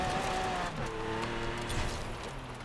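A Mosler sliding on winter snow in Forza Horizon 4, its engine note wavering and shifting as the car loses grip, with a continuous loud drone and brief tire noise.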